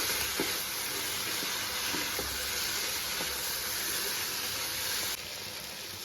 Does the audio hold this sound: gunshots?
no